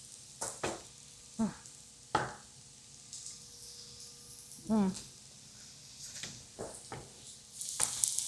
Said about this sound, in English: I'm gonna cook it just a little. I don't like hard potatoes.